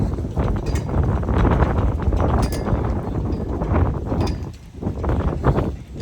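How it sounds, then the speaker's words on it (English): Strong wind buffets the microphone outdoors in loud, continuous gusts that rise and fall. "It's a windy day out here"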